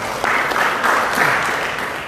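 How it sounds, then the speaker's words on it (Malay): An audience claps loudly at an Islamic dialogue event on the IAIN Sunan Amai Gorontalo campus, a dense, sustained wash of applause throughout. "Tepuk tangan sekali lagi dong untuk Gus Ulil"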